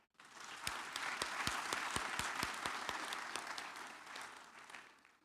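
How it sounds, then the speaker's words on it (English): Audience at a security and criminal justice institute graduation ceremony in Kenya claps for a professor, a steady burst of applause of about five seconds that swells quickly, holds evenly and fades toward the end. "Let us clap for the professor."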